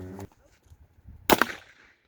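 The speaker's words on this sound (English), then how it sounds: "The first test I want to do is the cannonball, to see if the cannon can withstand the immense pressure burst of the firecracker." A small firecracker-powered toy cannon fires a cannonball with one sharp, loud crack followed by a short fading rattle, preceded by a faint click and a brief tone.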